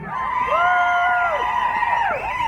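At an outdoor rally, a crowd cheers and whoops loudly and continuously, with many overlapping high voices rising and falling close by.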